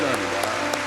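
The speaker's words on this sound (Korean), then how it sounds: "우리 이분들을 우리 따뜻한 박수로 환영하겠습니다." A church congregation claps warmly for a brief moment during a Sunday service. The dense applause carries a few sharper claps and voices mixed in.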